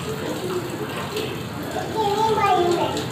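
A young girl splashes and plays with running tap water in a bathroom basin, the water hissing steadily under an adult's nearby talk and the child's brief squeals.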